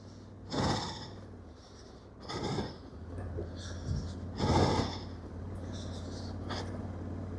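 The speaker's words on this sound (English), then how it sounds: "Sorry if I was panting coming up there, but I put a bit of work into that climb." A rider catching his breath after a hard climb on a Honda Africa Twin motorcycle along green lanes, heavy panting in several loud bursts of exhaled breath spaced about a second apart, close to the mic over steady outdoor wind noise.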